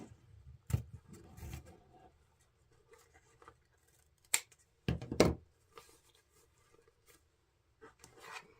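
Scissors cut a 6-inch tail from stacked deco mesh and 2.5-inch shamrock ribbon on a St. Patrick's wreath, giving several crisp snips and rustles with quiet gaps between them.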